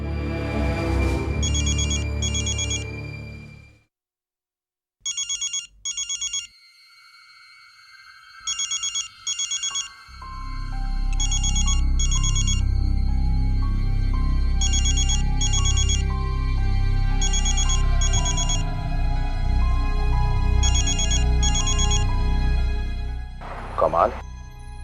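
A telephone ringtone repeats in regular bursts, left unanswered, with a tense drama score swelling beneath it and a sharp stinger near the end.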